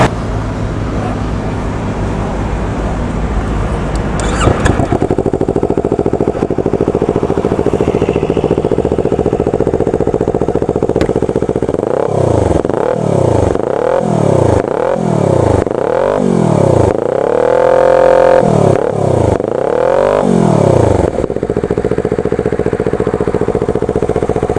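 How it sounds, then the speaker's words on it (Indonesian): Yamaha R25 motorcycle fitted with an R6 exhaust, close by: a steady low idle, then a series of about eight quick throttle blips that rise and fall before it settles back to idle, with no voices. "Dan ini knalpot R6 ini dia suaranya"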